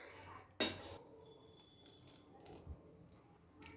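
Chopped cashews and magaj seeds drop into a pan of milk with a single sharp metallic clatter, followed by faint scraping and soft clinks of utensils against the pan.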